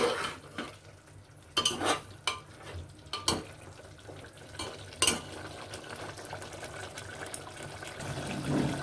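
Mutton rezala being stirred with salt in a pan, a spoon scraping and clinking against the metal in irregular strokes, with a few sharper knocks and a faint sizzle of cooking beneath, fairly close and without talk.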